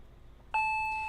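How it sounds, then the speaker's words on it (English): A doorbell in the visual novel game Higurashi When They Cry Hou gives a single clean electronic chime that rings out and slowly fades over a quiet background. "The doorbell rang again."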